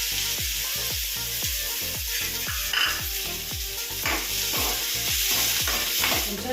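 Chopped onions and green chillies sizzle in hot oil for a crab curry, with a constant bright hiss and a quick, regular series of spatula scrapes and knocks against the pan.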